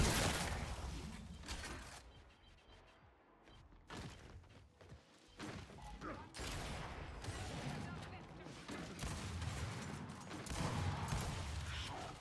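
Gunfire in the video game Gears 5 during a Ranked Control match: repeated bursts of shots, thuds and mechanical clatter spread across the span, loud and dense, with players talking over the action.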